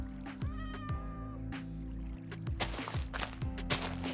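A Minecraft cat meows a few times in quick bursts near the start, its short tonal cries standing out over steady game music and ambient sound, with clicks and shuffling movement continuing afterward.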